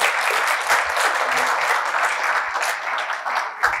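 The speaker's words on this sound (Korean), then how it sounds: "예, 박수 한번 드리겠습니다." Audience at a Korean lecture gives a round of applause, with continuous dense clapping that stays strong throughout and tapers slightly near the end.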